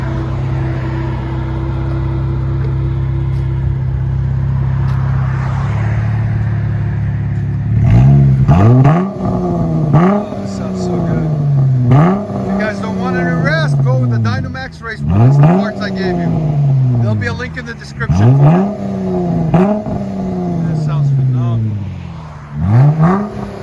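A Dodge Challenger GT/SXT with a 3.6L V6 and bottle resonators idles with a low drone, then revs up sharply in a series of repeated throttle blips, each rising and falling, loud and close.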